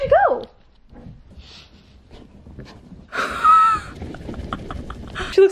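A dog whimpers and whines up close in a quiet indoor space, with a couple of high, drawn-out cries and short yips spread across the few seconds and brief soft noises between them.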